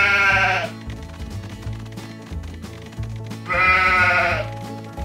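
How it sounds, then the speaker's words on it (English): Cartoon sheep bleat twice in Paw Patrol Academy gameplay, one wavering bleat at the start and another a few seconds later, over a bouncy game music loop with plucked bass notes. "Bring these sheep to me, Marshall."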